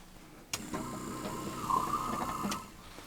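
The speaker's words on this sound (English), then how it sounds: "Set the valve to siphon and then just run your pump." An RV water pump runs to siphon antifreeze through a siphon tube, starting abruptly with a click and producing a steady mechanical whir with rapid ticking pulses before a sharp stop, close and fairly quiet.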